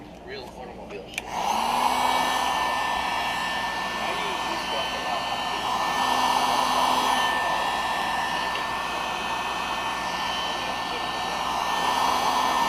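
A modded Picco Boost .28 nitro engine in a Nova P5 RC buggy fires up and runs steadily at a loud, high-pitched idle, a sharp, buzzy whine close to the mic after a brief startup.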